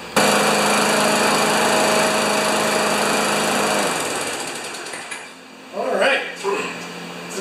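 A Brute lawn mower with a Briggs & Stratton Classic engine, prone to intermittent starting, warms up: a loud, steady close-up engine drone that eases off midway, followed by softer handling noises and a brief voice.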